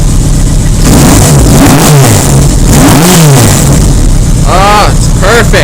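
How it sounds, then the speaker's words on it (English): A 1980 Yamaha XS1100 motorcycle engine revs hard several times, loud and close, the pitch sweeping up and falling back between blips, with a voice speaking over it. "I hate to rev it so much, but it sounds so good."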